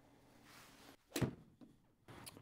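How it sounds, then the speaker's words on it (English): A single sharp thwack of a 7-iron striking a golf ball into a target net, quick and fairly faint, followed by soft thuds. "I'm going to try to hit 7-iron into this target."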